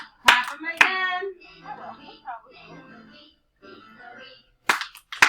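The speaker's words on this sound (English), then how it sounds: "Clap those hands. Clap them again." Children clap their hands in a few sharp bursts, a pair of claps near the start and another quick cluster at the end, with an adult singing a days-of-the-week song between them.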